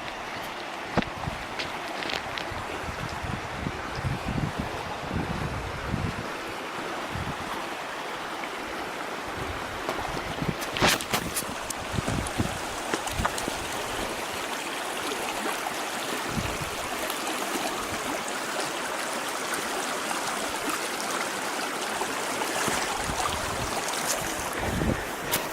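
Justice Creek on the Appalachian Trail flows in a continuous rushing wash, loud and close, with gusts of wind buffeting the microphone and a few knocks and scuffs during a rock hop.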